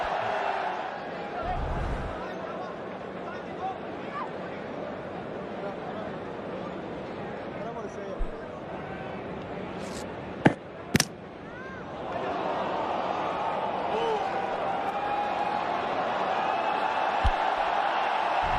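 At a Test cricket match in Delhi between India and Australia, a stadium crowd murmurs under a commentator's voice, then swells into a broad, loud roar of reaction midway and holds it.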